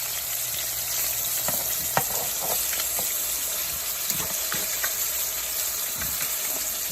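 Fish and shrimp fry in hot grease with a steady, close hiss and scattered pops and crackles running throughout.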